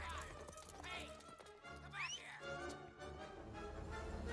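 Horse hooves clip-clop at a gallop during an Indiana Jones film chase scene, set under a dense orchestral score and effects, with a whinny and people talking over it.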